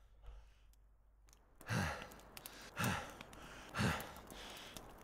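A character in The Long Dark breathes heavily after a quiet start, three deep, loud, evenly spaced breaths close up.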